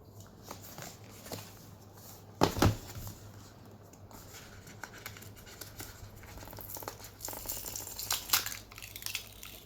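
An Honor Pad V9 tablet box is opened with scattered crinkles, scrapes and soft taps of cardboard and plastic wrap, quiet and close, with a sharper rustle burst partway through and no talk.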